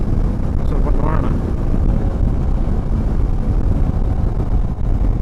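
Rider on a new Hero Xpulse motorcycle on a long highway ride, with steady engine drone and heavy wind rush at the microphone throughout, loud and continuous.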